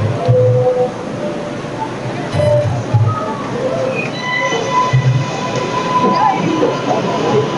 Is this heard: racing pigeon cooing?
no